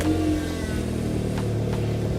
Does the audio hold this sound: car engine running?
yes